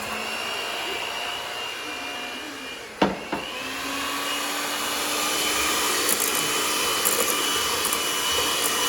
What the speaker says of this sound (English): Right now we're using this blender